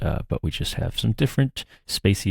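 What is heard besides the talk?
No everyday noises stand out.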